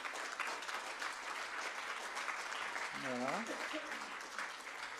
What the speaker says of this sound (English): Et je voudrais que vous leur fassiez un tonnerre d'applaudissements.